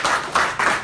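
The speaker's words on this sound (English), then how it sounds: "So just got a round of applause," At a Bitcoin meetup, a quick burst of hand clapping comes in three close pulses, loud and near, lasting under a second.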